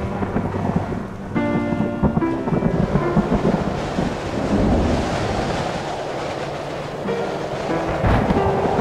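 Thunder rumbles through a steady wash of rain, with low rolling booms and crackles over a continuous storm bed, used as an effect for cloud-to-cloud lightning in an animation.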